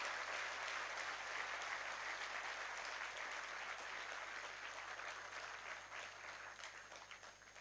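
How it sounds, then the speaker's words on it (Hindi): Crowd applause at a statue inauguration ceremony in Hisar, Haryana, a sustained dense clapping from a large audience that slowly tapers off toward the end. "जोरदार ताली बजा करके हम इनका धन्यवाद करें।"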